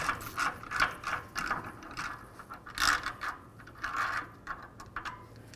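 A half-inch drive ratchet clicks in quick repeated bursts while loosening the rear brake rotor locking nut on a 2017 Ford F-350 dually, close and fairly quiet.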